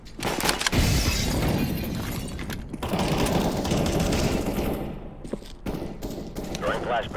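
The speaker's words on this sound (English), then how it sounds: "Throwing a grenade." Video-game combat rings out with loud bursts of rapid gunfire and sharp blasts, including a grenade explosion. The shots come in dense clusters broken by brief pauses, and close, busy sounds fill the whole stretch.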